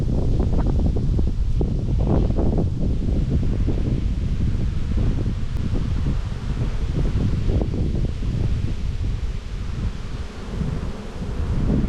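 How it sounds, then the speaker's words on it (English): Steady wind buffets the microphone outdoors beside an open beehive during spring buildup in Australia, a continuous loud rumbling roar with gusty rustle throughout. "Sorry about the wind, guys."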